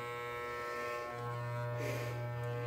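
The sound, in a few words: electric clippers shaving a cat's fur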